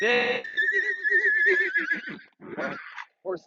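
A horse gives a loud, close whinny, a long wavering high call that breaks into shorter pulsing bursts and fades in a few quick snorting tails.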